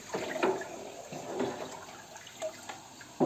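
Water pours and splashes into a pot for homemade strawberry-banana juice, with irregular gurgles and plops, fairly quiet against a soft background hiss.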